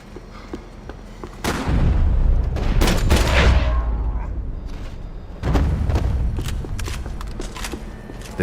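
SMG gunfire in Max Payne 3 erupts in loud, close bursts of rapid shots mixed with heavy booming impacts, a dense volley followed by a second barrage after a brief lull.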